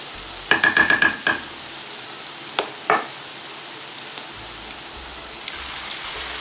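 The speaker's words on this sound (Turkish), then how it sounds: "Bu şekilde ben bütün mücverlerimi kızartayım." Quiet, steady sizzle of potato fritters frying in oil, with a quick burst of sharp utensil clinks early on and a couple of later taps.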